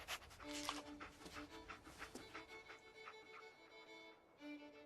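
Dogmeat, the dog companion in the Fallout 4 video game, pants in quick, soft rhythmic breaths over a quiet game background with faint music.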